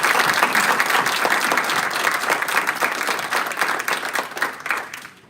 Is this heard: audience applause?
yes